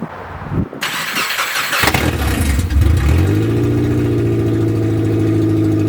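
A Subaru Forester engine cranks and catches, then settles into a loud, steady idle with rising revs, the car running on a flat tire.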